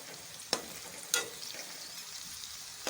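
Meat, tomatoes and okra fry for bhindi gosht, a soft continuous sizzle with two sharp spoon knocks against the pan and a faint scrape near the end.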